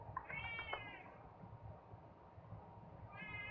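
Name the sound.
cat meowing for attention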